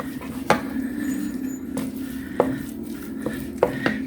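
Mushroom potato soup being stirred in a pot, with a spoon scraping and clinking against the sides several times at an irregular pace over a steady low hum.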